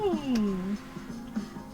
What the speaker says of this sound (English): It's a Missy Meow